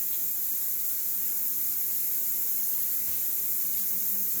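Hot tap water running steadily into a kitchen sink, a constant hissing splash at close range with no pauses, heard alone.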